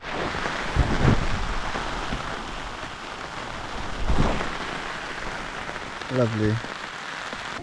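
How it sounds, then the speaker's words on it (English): Heavy rain with gusting wind pounds a tent during wild camping in the Quantocks, a steady broadband wash with two louder gust swells, and a brief spoken word near the end. "Yo man, this is heavy rain,"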